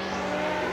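Historic Formula 1 race cars from 1966 to 1985, led by a Brabham BT49, at Silverstone: a dense, sustained engine roar from the passing field, loud and continuous in a very short burst.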